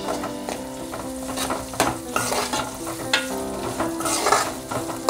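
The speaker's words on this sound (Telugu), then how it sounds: "వేసుకొని హై ఫ్లేమ్లో పెట్టుకొని ఇవి బాగా ఇలా ఫ్రై చేసుకోవాలండి." Curry leaves and tempering spices fry in oil over a high flame for an egg curry, a steady close sizzle broken by repeated scraping stirs of a spoon against the pan, with no voices.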